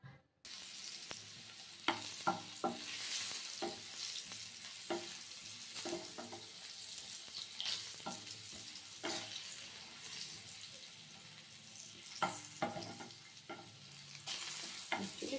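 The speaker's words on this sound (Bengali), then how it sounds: "এখন মাছের আলুটা ভেজে নেবো" New potatoes fried in a pan before going into a pabda fish mustard curry, a soft, steady sizzle broken by irregular stirring knocks and scrapes throughout, with no one talking.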